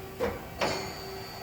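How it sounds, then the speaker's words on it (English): The spindle of a Mighty HB2190 CNC bridge mill with a Mitsubishi control runs with a steady tonal hum. Two brief whooshing surges sound over the hum, and no one speaks. "Spindle sounds good"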